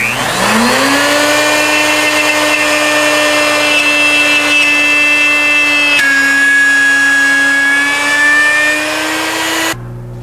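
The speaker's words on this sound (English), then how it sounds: "And then we'll just bring our router bit in and plunge down." Woodworking router spinning at high pitch as the bit plunges into a wood workpiece for a hammer head walking cane, a loud steady whine with a brief dip midway before cutting off near the end.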